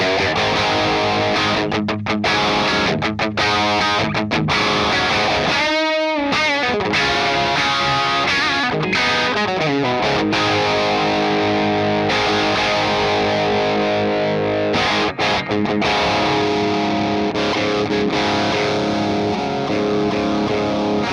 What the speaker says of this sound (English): I'm gonna engage the Boss.